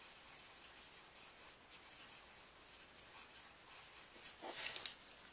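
A watercolor pencil coloring on a paper card: soft, faint scratchy strokes rubbing continuously, close and quiet, with a slightly louder burst of scraping toward the end.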